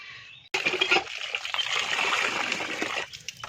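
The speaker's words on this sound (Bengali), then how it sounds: "এই যে এখানে মাংসটা ধোয়ানো হচ্ছে" Water splashes and trickles as pigeon meat is washed by hand in a home kitchen, a loud burst of running and splattering water starting abruptly and continuing steadily before easing off near the end.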